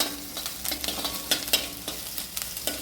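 Tomato paste, with ginger-garlic paste, fries in a pan with a faint steady sizzle, while a spoon scrapes and taps at intervals close by.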